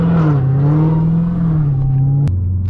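Engine of a 2020 Dodge Hellcat Redeye heard from inside while driving, a loud steady low rumble with a slight rise and then a drop in pitch as it shifts.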